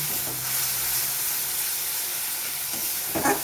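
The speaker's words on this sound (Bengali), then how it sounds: "এই মশলাগুলো দিয়ে ভালো করে আমি আরও কিছুক্ষণ কষিয়ে নেব।" Spice paste being fried and stirred in a pan for a fish recipe gives a steady, close sizzle and hiss throughout, with a few brief stirring scrapes near the end.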